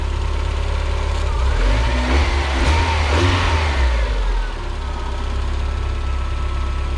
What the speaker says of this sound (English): But the engine's running good.